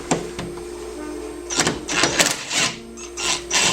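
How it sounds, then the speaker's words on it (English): Socket wrench working bolts off the center sliding-door hinge of a 2005 Toyota Sienna: a steady background hum, then bursts of quick ratcheting clicks and metallic rattles, close by, no talking. "I'm going to be using my socket wrench to take those off"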